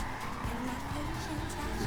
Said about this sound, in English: Now this car does drift for fun,